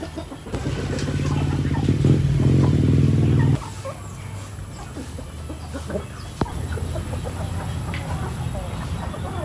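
Chickens, including a hen, cluck and murmur close by in a steady cluster awaiting feed, with a louder burst of fowl calls early on and a brief sharp knock partway through.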